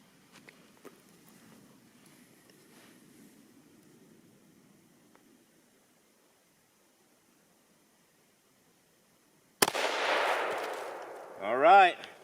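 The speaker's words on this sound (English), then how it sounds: "Last shot of the day here before all the light fades" A single 6.5-284 Norma rifle shot with a 140 grain Speer Gold Dot load cracks loudly at dusk after a long, nearly silent wait, its blast decaying over a couple of seconds and followed by a short whistling tone.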